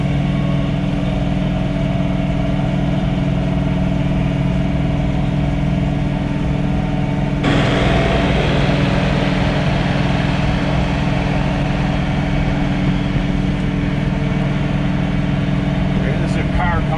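A John Deere 3046R cab tractor runs steadily at night while snow blowing, its mid-pitched engine drone continuous and close, rising somewhat in intensity partway through, with someone talking over it.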